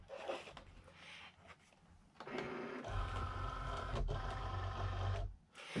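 A Cricut Explore Air 2 cutting machine loads its cutting mat with a few light clicks, followed by a mechanical whirring of rollers feeding the mat in and a soft thunk as it stops.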